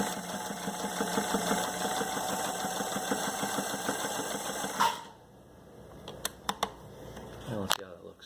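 A Kenmore Sears Tri-Span 88 sewing machine stitching through about eight layers of fabric, a steady close mechanical whir with rapid needle rhythm for about five seconds, then stopping, followed by a few handling clicks.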